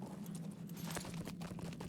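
Horse hooves clip-clop in a steady trotting rhythm inside Thorin's Hall in the Lord of the Rings Online game, moderately loud over a low ambient hum, with no talk.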